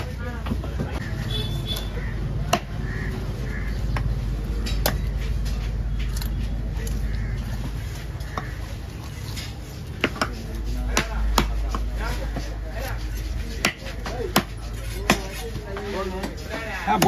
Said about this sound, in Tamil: நான் தான் வெட்டுறேன் உங்களுக்கு